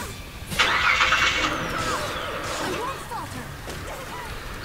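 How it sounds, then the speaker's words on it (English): A car engine starts up inside a Hawkeye versus Shinji Urahara fighting game match, cranking and catching into a mid-pitched rumble amid other game sound effects. "Starting up my car."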